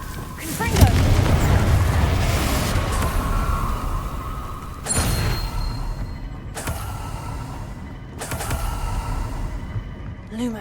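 Fiery spell blasts in the game Hogwarts Legacy, a heavy booming burst near the start followed by three more sharp explosive hits that each trail off in rumble, over busy game background noise.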